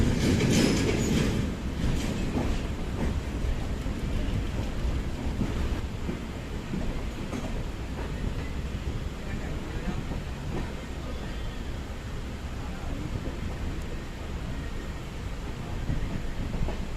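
The Tanakpur Janshatabdi Express runs on the rails with a continuous rumble, rhythmic wheel clatter and faint squeals, heard from on board with wind buffeting the microphone.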